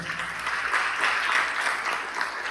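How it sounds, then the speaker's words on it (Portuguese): A church congregation claps steadily and enthusiastically, a dense wash of applause at moderate distance with no talking. "aplauda o Senhor bem forte"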